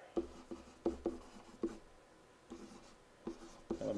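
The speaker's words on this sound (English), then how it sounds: "Let me write that." A pen or marker writes by hand on a surface in short, quiet strokes and taps, irregular and close, with a brief pause midway.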